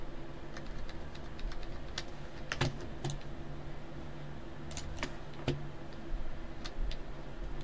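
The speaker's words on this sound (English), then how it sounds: "I'm using keyboard and mouse here." Keyboard and mouse clicks while someone plays Fortnite, a sparse run of light taps and clicks over a soft steady fan hum, close and quiet, with no talking.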